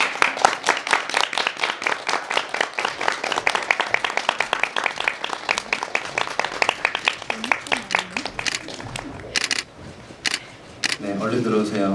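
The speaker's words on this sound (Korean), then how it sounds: "박수로 맞아주세요." A theatre audience claps to welcome five cast members, the director, writer, composer and band master of the musical Apollonia to a post-show talk, dense overlapping claps filling the room and fading near the end as a host speaks.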